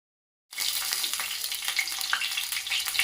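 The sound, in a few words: stuffed capsicum shallow frying in oil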